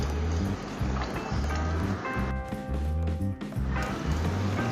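A spatula stirs cauliflower through thick chicken gravy, making wet squelching and sloshing sounds in close, uneven strokes over a steady low background with no speech.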